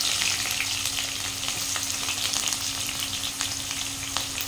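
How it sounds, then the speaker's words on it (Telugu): Onions sizzling steadily in hot oil in a pan as a fish curry begins, a dense, even crackle with occasional stirring scrapes and a low hum underneath, no one talking. "హీట్ ఎక్కింది కదా, ఉల్లిపాయలు వేసుకుంటున్నాం."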